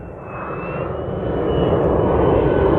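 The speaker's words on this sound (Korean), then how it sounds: "와 제트기" A jet airplane passes overhead beside a lake at a bass-fishing spot in Chungbuk, a steady broad roar that swells slightly louder as it nears, continuous with no talk.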